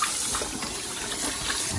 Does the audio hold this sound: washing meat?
yes